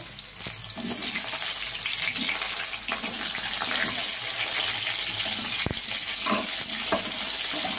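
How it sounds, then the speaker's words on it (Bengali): Potatoes fry in a pan with a steady, close sizzling hiss, broken by repeated scrapes and knocks of a spoon as they are stirred, with no voices. "আলুগুলো একটু ভাজা ভাজা হবে"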